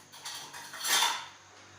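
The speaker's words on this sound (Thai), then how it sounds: "ดี๋ยวผมเอาช้อนมา" Metal cutlery clinks and clatters as a spoon is fetched from among other utensils in a kitchen, a short, faint rattle that peaks briefly near the middle.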